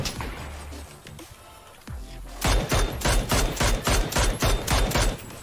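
Rapid gunfire from a rifle in the PUBG video game, a quick burst of around a dozen loud, evenly spaced shots after a quieter stretch with scattered distant pops.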